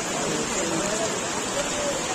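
Heavy monsoon rain pours outdoors during a crowded pilgrimage gathering, a dense, steady hiss with no breaks.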